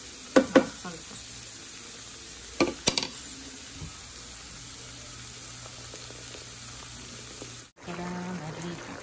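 Minced meat with tomato juice and salsa cooking in a pan for taco pie, a soft steady sizzle broken by a few sharp clanks of a utensil against the pan near the start.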